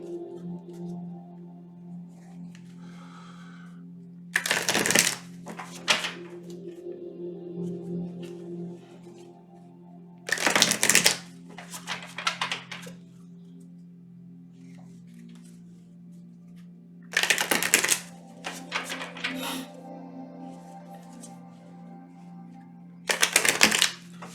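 A vibrational energy tarot deck is shuffled in four short, crisp bursts of riffling cards, close and fairly loud, spaced several seconds apart over a steady low hum.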